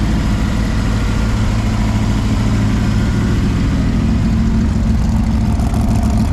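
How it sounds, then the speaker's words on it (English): Both engines of a 900 hp twin-engine Yugo, one in front and one in the rear, idle together at a Supercar Sunday car meet, a loud, close, continuous deep rumble that stays steady throughout with no voices. "Two engines. Now two engines."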